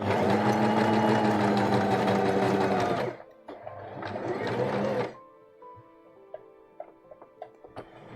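Sewing machine runs along the waistband seam of a dress, loud and steady for about three seconds, pauses, then runs again for two more seconds before stopping to pivot, followed by light mechanical ticks and clicks.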